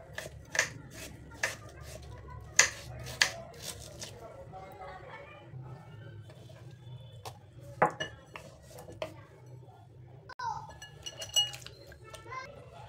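A knife slices grated potato thinly in a kitchen, making sharp clicks and taps against the board in irregular bursts while a person talks.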